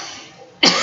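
A single sharp cough from a woman, sudden and close after a quiet stretch.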